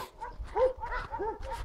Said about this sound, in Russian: Собаки бегают. И там таксы маленькие. Дворняги бегают.